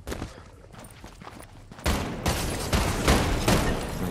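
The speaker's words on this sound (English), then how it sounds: "Can you hear shots by the way over right, there?" Gunfire in the video game Fortnite: a rapid burst of loud, close shots in the latter half, following quieter scattered shots and movement sounds at the start.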